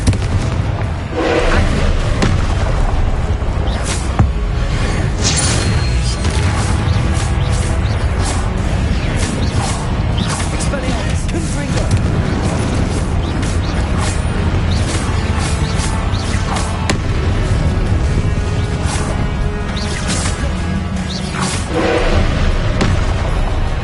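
Confringo blasting-spell explosions crash and boom continuously during a Hogwarts Legacy fight, a dense, loud barrage of impacts with no pause between them.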